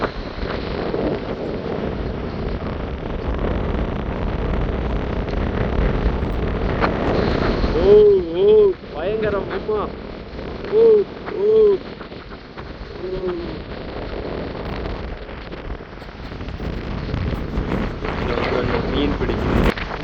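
Steady gusting wind roars across the microphone throughout, with a few short bird coos and faint voices breaking through in the middle.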